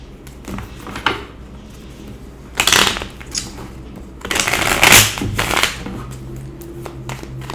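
Tarot cards are shuffled nearby in a few separate bursts of crisp riffling and slapping, with quieter handling between them and no talking.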